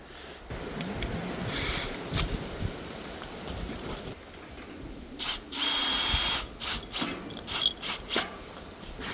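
A power tool drives four bolts in, whirring in short bursts of a few seconds each with pauses between, close and fairly loud in a workshop setting.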